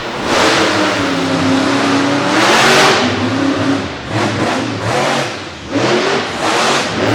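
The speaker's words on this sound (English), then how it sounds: "Watch this run from Overkill." Overkill monster truck roars down a race track at an opening-weekend event, its engine revving hard in loud surging waves with shifts in pitch, near and continuous.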